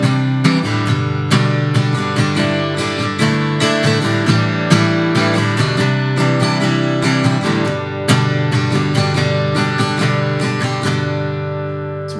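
An acoustic guitar strums a steady chord pattern, bright down-and-up strokes ringing together in an even rhythm, close and clear with no voice.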